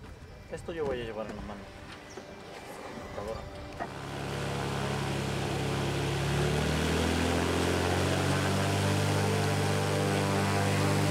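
A single propeller plane flies along the Pastaza River in the western Amazon basin near the Ecuador–Peru border, its steady engine drone rising after a few seconds and holding loud and close, following a brief stretch of other sound at the start.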